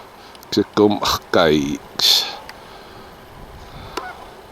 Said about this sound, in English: We have swans.